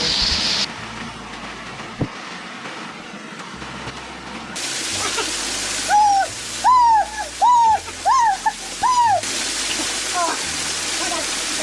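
The Nang Non waterfall rushes in a steady, broad roar throughout, with several short rising whistle-like calls and people's voices over the falling water.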